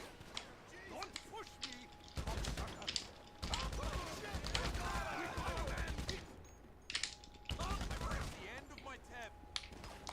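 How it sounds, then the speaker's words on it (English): Gunfire in GTA Online, with repeated rapid bursts of shots across the clip and a few short pauses between volleys, loud and close, mixed with mechanical clicks. "Shooting every bullet."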